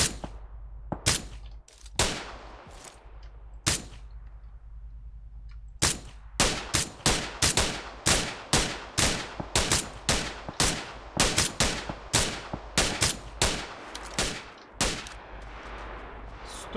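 Gunfire in the battle royale shooter PUBG Lite: loud, sharp shots, scattered at first and then a rapid rhythmic string of bursts close by, over a low steady background hum, with no talk.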